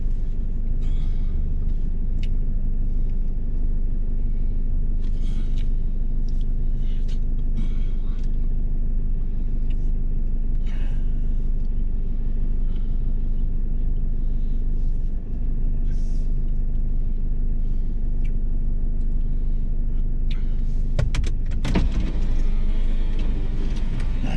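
A car driving on the road, with a steady low engine rumble and road noise running throughout and a brief louder burst near the end, with no talking.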